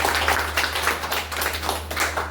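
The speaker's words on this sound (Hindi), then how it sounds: "हाँ, एक जोरदार क्लैपिंग होनी चाहिए आपका।" Audience at a weekly business meeting clapping loudly, a dense, continuous burst of hand claps in a room with a steady low electrical hum underneath.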